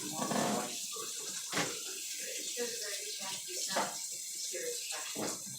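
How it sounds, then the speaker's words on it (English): Rice being rinsed under a running kitchen tap, a steady broadband rush of water with faint sloshing, while a person talks over it for most of the stretch. "Make sure you wash your rice off."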